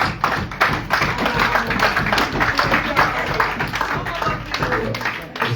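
Audience at a pre-legislative gathering claps for an honorable member from Sudan, a dense steady patter of many hands near and loud throughout with scattered thumps.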